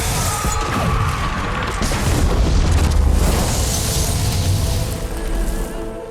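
A loud, sustained explosion from a Rings of Power fantasy TV episode, a deep rumbling boom with crashing debris that rolls on for several seconds before easing off slightly.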